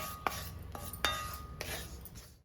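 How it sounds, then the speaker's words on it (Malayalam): A metal spoon stirs spice powder in a pan for Kerala-style okra theeyal curry, with a few distinct clinks and light scrapes over a quiet background. "പൊടി ചേർത്ത് കഴിഞ്ഞാൽ നന്നായിട്ട് എല്ലാ സൈഡും കൂടെ കൂട്ടി ഇളക്കി കൊടുക്കണം"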